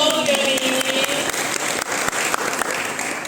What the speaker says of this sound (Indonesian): Tepuk tangan dong Fioni.